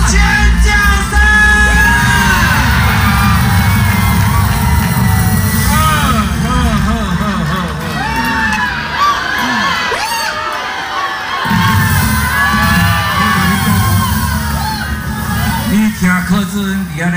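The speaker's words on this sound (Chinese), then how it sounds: "尖叫声。" A large crowd at a Taiwan 2024 election campaign headquarters opening rally screams, whoops and cheers loudly and continuously, with shouts and excited voices layered throughout and a brief dip before the roar resumes.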